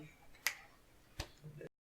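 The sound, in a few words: podcast guests snapping fingers instead of clapping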